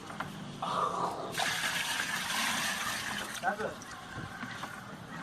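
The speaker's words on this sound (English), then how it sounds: "Pour the water in there." Water pours into a hydroponics bucket, a steady splashing gush that starts partway in and runs on, fairly quiet and close, with faint voices alongside.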